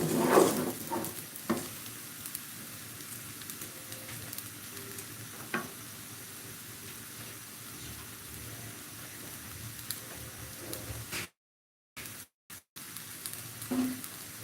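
Rice fries in oil in a pot for pulao, giving a continuous close sizzle with occasional stirring scrapes, cutting out briefly near the end before resuming.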